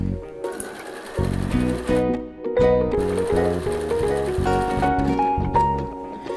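A sewing machine stitching bias binding onto a quilt, running in fast rhythmic bursts with brief pauses between runs, close and clear.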